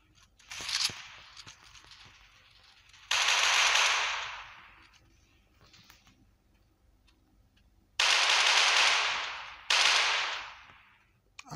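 Gunfire in the Maskgun multiplayer FPS game: four loud, dense bursts of rapid machine-gun fire, a short one first and then three longer sustained volleys, with quiet gaps between them.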